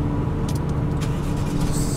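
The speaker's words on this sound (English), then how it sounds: "Start the truck up. Truck started." Truck engine running steady right after starting, a loud low rumbling idle that fills the whole moment without talk.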